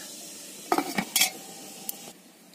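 Squid goes into a pot of boiling lemongrass and malunggay broth, with a few sharp metal clinks and short splashing clatters over a soft simmering background, then quieting.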